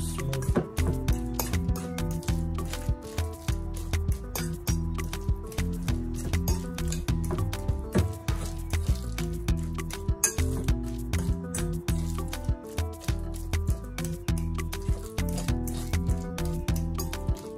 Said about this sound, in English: I'll just mash it with my fork.